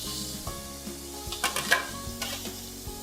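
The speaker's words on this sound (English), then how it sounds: "toss them in a hot pan." Octopus tentacles are tossed into a hot pan and sizzle with a close, steady hiss, marked by a short cluster of scraping and clattering pan sounds in the middle, with no voices.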